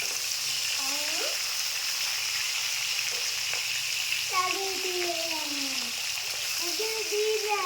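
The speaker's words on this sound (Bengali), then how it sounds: "মাছটা ভেজে নেব।" Pomfret fish frying in hot oil in a home kitchen, a continuous crackling sizzle heard close up, with someone talking over it in places.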